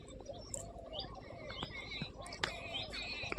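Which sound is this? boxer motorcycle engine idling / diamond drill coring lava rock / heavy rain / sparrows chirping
sparrows chirping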